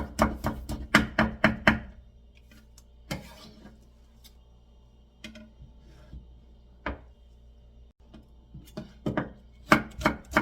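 A knife chops carrots into julienne strips on a cutting board, giving a quick burst of sharp taps, a pause, then scattered single chops and another rapid run, close up with no speech.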